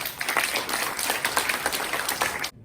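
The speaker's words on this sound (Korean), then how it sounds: "우리 뜨거운 박수로 모시도록 하겠습니다" An audience at a theology college freshman orientation claps in a steady, dense wash of applause that cuts off abruptly near the end.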